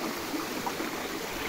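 The Serra Velha waterfall in Igrejinha, running high after recent rain, pours over rocks in a dense, steady broadband rush with no talking.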